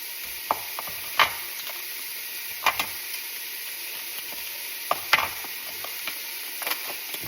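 Organic ground beef fries in a pot with a steady low sizzle, broken by sharp scraping and stirring clatters from a utensil every couple of seconds.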